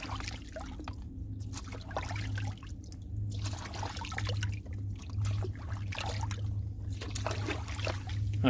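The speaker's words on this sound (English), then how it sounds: "all you do is dip this down into the water to fill it up" Water trickles and gurgles steadily nearby as a Sawyer Squeeze filter bag is dipped to fill, a soft continuous pouring flow with small splashy variations and a low background hum.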